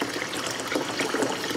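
Cold water running from a tap into a campsite shower or washroom basin, a steady close hiss and trickle with a gurgling splash, continuous and without talk.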